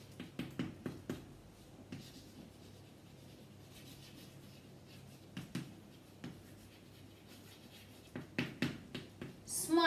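Pen or marker strokes scratching and tapping as numbers are written on a board, coming in quick bursts of short strokes separated by pauses, close and fairly soft with faint breathing.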